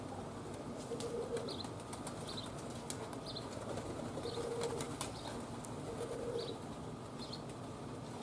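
A roller pigeon takes off with repeated wing flaps and faint coos, all fairly soft against steady outdoor background noise, with no talking.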